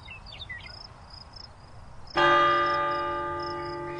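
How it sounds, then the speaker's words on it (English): A single loud bell strike rings out after a quiet stretch with faint chirping, its tone lingering and slowly fading. "that East Canton Church of God bell is really loud"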